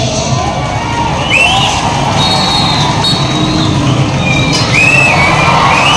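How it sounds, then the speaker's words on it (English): A large audience cheers and shouts in a steady, loud wash of crowd noise, with whistles and high squeals rising above the roar throughout. "A big round of applause"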